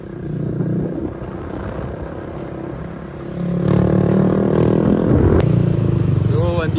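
Motorcycles pass close by on a road in the Philippines, engines droning and rising in a loud rumble with clatter, growing louder midway as traffic goes by, with a person talking over it.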